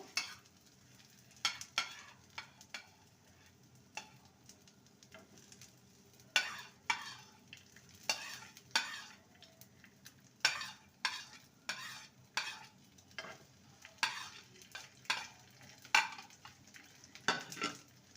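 Egg yolk goes over bread frying in a pan for a healthy breakfast: a quiet low sizzle runs underneath while frequent sharp spatula scrapes and utensil taps clatter against the pan in irregular bursts, with no voices.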